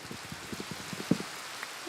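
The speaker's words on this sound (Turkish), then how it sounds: "Ee, yağmur yağdı." Soft, steady rain in Minecraft patters with scattered droplet taps, one slightly louder hit near the middle, under a gentle hiss.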